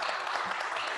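Audience applause after a talk on leadership lessons, a brief, dense wash of clapping heard close and continuous for a moment.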